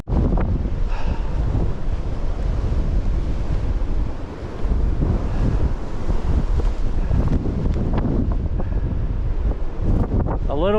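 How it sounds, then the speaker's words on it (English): Wind roars across a mountain trail near Mount Rogers on the Appalachian Trail, a constant loud buffeting of the microphone with a brief dip midway. "A little windy."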